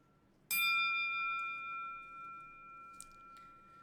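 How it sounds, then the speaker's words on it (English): A single bright bell-like chime rings out and slowly fades, its clear tones sustaining over a quiet background, with faint small ticks later. "Then from there you hear this beep, or this bell, and you're heading towards it."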